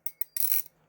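The Seigaiha folding knife flips open with two light clicks, then a brief louder metallic snap as the blade locks, close and crisp against near silence.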